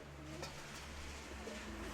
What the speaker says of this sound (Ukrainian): що таке за голубка сидить?